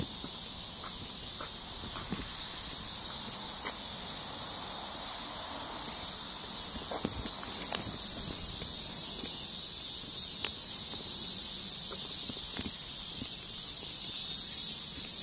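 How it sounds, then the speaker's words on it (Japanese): Cicadas droning loudly and continuously in warm weather, a dense steady buzz filling the background, with a few faint taps and footsteps underneath. "セミがすごい。"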